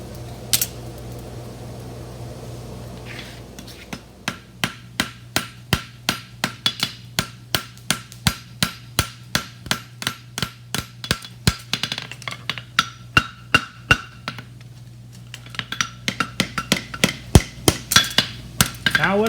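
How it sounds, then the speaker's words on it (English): Farrier's hammer striking a welded deep-seated bar horseshoe on an anvil, a long steady run of sharp metallic blows in quick regular rhythm, close and clear over a constant fan hum, with a quieter pause before the strikes resume. "I'm going to hit with the edge of my hammer like I'm drawing a clip and try and push stuff to the corner"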